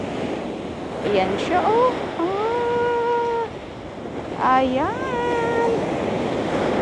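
Ocean waves at a Florida beach roll in as a steady broadband wash with some wind. A person talks briefly over the surf, and a few short, tonal vocal sounds stand out above it.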